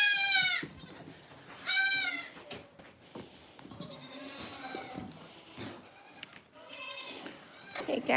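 Goats on a goat farm bleat loudly in several bursts, with closer and farther calls overlapping against a quiet barn background.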